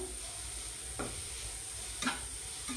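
Vegetables frying in a pan sizzle with a steady, moderate hiss, with two or three brief scraping stirs mixed in.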